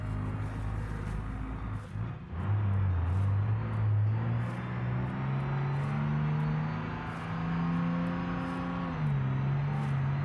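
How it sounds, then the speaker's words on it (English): An MD truck engine braking with no exhaust brake, just very low gear ratios, a sustained low droning engine note that steps up in pitch and holds steady, loud and close without talk. "just old-fashioned engine braking with super low gear ratios"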